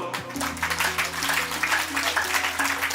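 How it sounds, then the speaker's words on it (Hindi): An audience at a yoga centre honour ceremony claps in sustained, dense applause, loud and steady throughout, with a voice over a loudspeaker heard under the clapping. "जोरदार तालियां प्रसन्न जी के लिए।"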